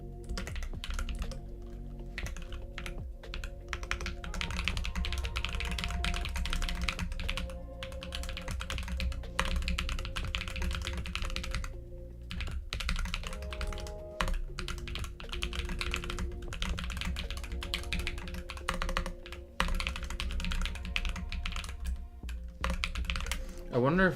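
Computer keyboard typed continuously while transcribing a book, close-up rapid clacking keystrokes with brief pauses, over a steady low background drone and faint tonal hum.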